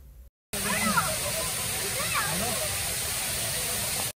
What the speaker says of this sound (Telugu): ఇక్కడ ఒక బ్యూటిఫుల్ వాటర్ ఫాల్ ఉంటుందండి